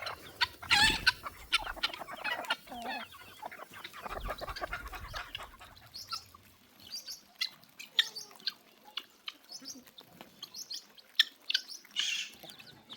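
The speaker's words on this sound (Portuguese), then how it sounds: "Vou jogar milho aqui pra galinhada, tratar dos pintinhos" A flock of farmyard chickens with chicks, clucking and cheeping busily while corn is scattered for them, many overlapping close calls and pecking sounds in an irregular, lively stream, with no talk over them.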